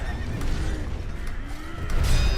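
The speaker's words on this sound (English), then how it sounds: "Oh, horse ran away." A horse in the video game Sekiro gives a loud, close whinny lasting a couple of seconds, with faint mechanical creaks and hoof clops underneath.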